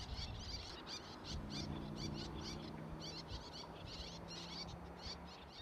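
Terns calling over a bare pebble beach in summer, a string of sharp, repeated high chirps in quick bursts, with steady surf or wind rumbling underneath and a low hum in the middle.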